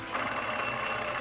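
A telephone bell rings continuously at night in a quiet house, a steady, loud, buzzing ring with no voices over it.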